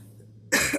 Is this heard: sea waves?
no